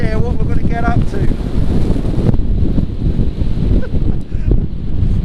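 Strong gusting wind at Styhead Tarn in the Lake District buffets the microphone with a loud, continuous low roar and rumble throughout.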